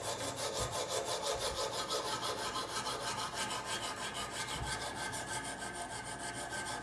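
A knife is sharpened on a Kazak UBR sharpener system with a U-adapter, the blade rubbing against the stone in steady repeated strokes, a close, continuous rasping with a couple of soft thumps.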